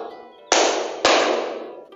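Two sharp, loud claps in a classroom rhythm exercise, struck about half a second apart, each ringing out briefly before fading, with no talk over them.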